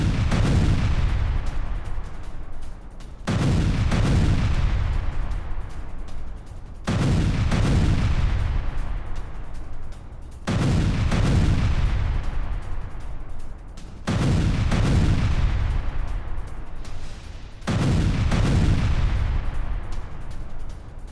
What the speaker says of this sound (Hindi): रूस पर क्लस्टर बम से अटैक किया गया, ये उसी के विजुअल्स हम आपको दिखा रहे हैं।